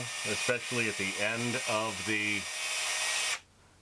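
A worn, out-of-square power drill spins a Brownell's barrel lapping tool in an AR upper receiver, a steady high whine under someone talking that stops suddenly near the end.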